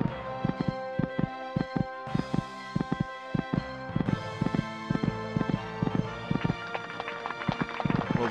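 A horse gallops in an equestrian cross-country video game on PlayStation. Its hoofbeats land in a quick, steady, close rhythm over constant background tones.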